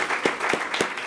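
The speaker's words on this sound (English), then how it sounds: "give our last panel a big round of applause" A conference audience applauds the final panel of an agricultural and nutrition policy event, a short burst of dense clapping with a few sharper claps standing out, close and steady.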